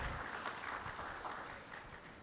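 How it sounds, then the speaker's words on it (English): Clapping from a studio audience at a celebrity interview with actor Kartik Aaryan comes across as a short, fairly faint burst of mixed claps that fades slightly over about two seconds, with no talking. "A huge round of applause for all, from all of you"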